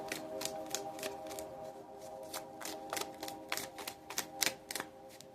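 Soft, quick riffling and tapping of oracle cards being shuffled, repeated bursts over a faint steady hum, close and quiet.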